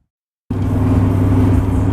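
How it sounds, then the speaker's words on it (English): A 1998 truck's engine drones loudly from inside the cab while driving, a steady low rumble that starts abruptly after a short silence and holds evenly throughout. "The truck is kind of loud and the radio's playing."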